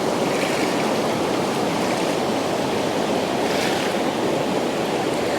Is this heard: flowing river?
yes